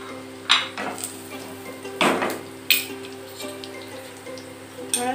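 Carrots deep fry with salt and turmeric in hot oil in a pan, a soft sizzle running underneath repeated metallic clanks and scrapes of a utensil against the pan, close and fairly loud.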